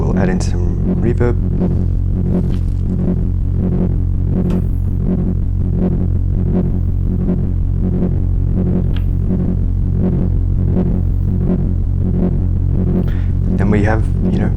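Drone patch on an Erica Synths Fusion drone system run through ring modulation, delay and reverb, a low sustained throbbing hum pulsing steadily for several seconds with a few brighter accents.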